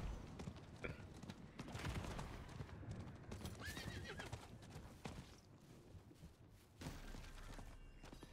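Hooves clip-clop and a horse whinnies in a video game, under a dense layer of game noise and scattered thuds.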